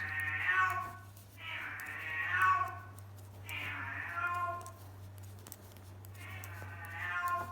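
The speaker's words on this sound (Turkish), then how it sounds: "Bu arada arkadan kedimizin de sesi geliyor." A cat meows repeatedly, four drawn-out calls at fairly even intervals over a steady low hum, fairly close and clear.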